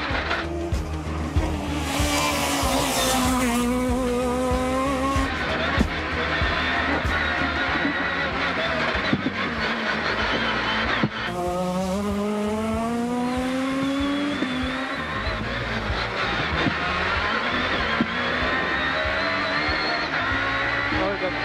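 A rally car engine revs and whines with rising and falling pitch as tires scrub and skid, then the tone drops sharply under braking, loud and continuous, at the Rallye du Mont Blanc Morzine.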